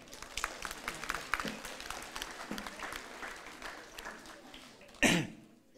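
Audience applause at a mayor's New Year greetings ceremony in Saintry-sur-Seine, a long spell of scattered clapping from a hall crowd with a few coughs and a loud cough near the end.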